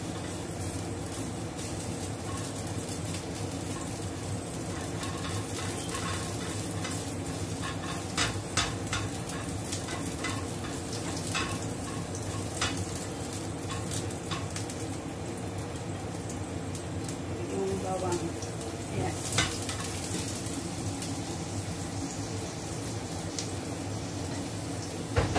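Ginger frying in a pan, a quiet, continuous sizzle with soft scrapes and taps of stirring throughout, close and steady with no talk.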